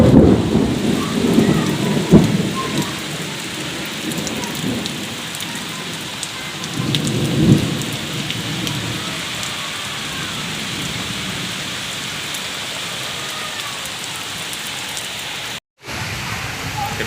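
Heavy rain pours down in a windy thunderstorm, a dense, loud, continuous hiss of drops on surfaces, with low rolling thunder swelling early on and again midway.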